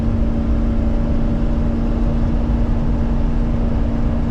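A 2011 Coachmen Freelander 210 mini Class C motorhome on a Chevrolet chassis driving uphill, a steady loud low engine drone with road rumble and a constant whine, no voices.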